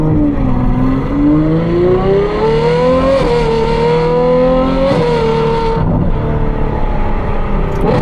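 A Ferrari 812 V12 engine pulling hard while driving on a savanna road, its loud, rising howl climbing through the revs, dipping briefly at shifts, then surging again before easing off near the end.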